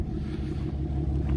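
Steady low engine rumble from a New Holland C238 compact track loader running at a constant pace, with some wind buffeting on the microphone.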